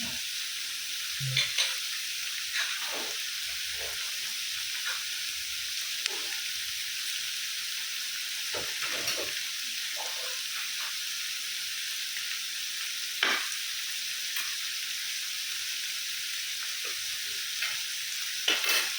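Tomato sizzles steadily in hot oil in a frying pan for broccoli stir-fry, with a constant close hiss broken by occasional soft scrapes and clacks of stirring.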